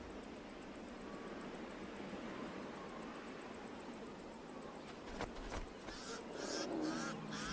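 Crows call in the African bush near a resting lioness and her cubs, a few harsh caws surfacing late over a steady background hiss.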